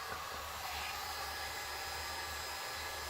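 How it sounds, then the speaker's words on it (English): A heat gun blows continuously over poured resin art to clear dust, a steady, close, hissing whoosh of air that stays level from start to finish. "let me give it a little a little torch with the heat gun just to blow out the dust bunnies"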